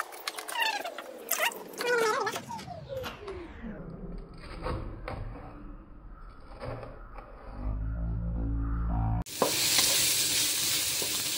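Ingredients for fried fish sarsyado sizzle and are stirred in a frying pan, a steady close hiss under brief talk at the start, growing louder near the end as more goes into the pan.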